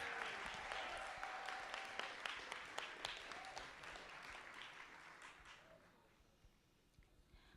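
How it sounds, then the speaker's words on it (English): An audience at a teacher awards ceremony applauds the nominated educators with dense, steady clapping in a hall, fading gradually toward the end. "they all deserve another round of applause"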